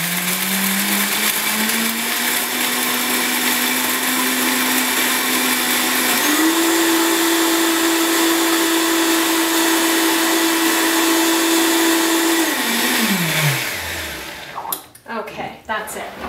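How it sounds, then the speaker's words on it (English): A Vitamix blender blends a raw kale chip mixture in one steady, loud motor whine that shifts up in pitch partway through, then spins down and stops near the end. "So we're going to blend this up"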